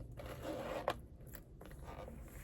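A zipper on a designer shopping bag being opened, heard as a short close scrape with a sharp peak near the middle, alone and fairly faint with no talking.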